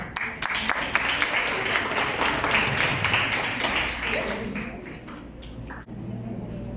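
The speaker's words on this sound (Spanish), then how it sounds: "Excelente, un aplauso" Applause from a group of catechists at the close of a training session, a burst of close clapping that thins and tapers toward the end, with some voices talking underneath.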